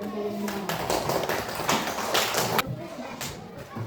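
A classroom of pupils claps together during a teaching-practice lesson, a burst of quick, loud hand claps close by, blended with children's voices.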